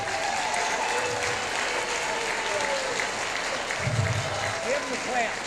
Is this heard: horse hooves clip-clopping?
no